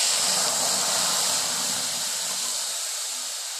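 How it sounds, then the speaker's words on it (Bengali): Water poured into a hot pan of tea leaves and jaggery gives a loud, steady rush of hissing steam that fades slightly toward the end, with no voices. "এরপরে অ্যাড করব আমি জল"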